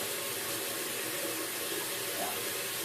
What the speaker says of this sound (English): I'm just going to rinse this off